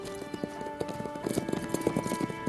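Rapid hoofbeats of a horse galloping in a long-distance run, a quick rhythmic clatter over a steady tonal hum, moderately close.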